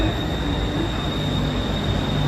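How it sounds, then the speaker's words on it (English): A BTS Skytrain elevated train pulls into a Bangkok station, a loud, close, steady rolling roar with a sustained high whine from the train, and no voices. "Train is coming."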